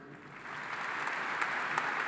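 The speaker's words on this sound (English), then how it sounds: "Join me in a round of applause for these special guests." An audience at a Clemson University ring ceremony claps together, a soft, distant wash of applause swelling slightly over two seconds with no one speaking.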